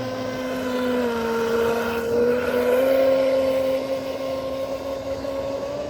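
A Traxxas Maxx RC car drives near full throttle, its electric motor giving a strong, steady whine with layered harmonics that rises slightly in pitch as it speeds along.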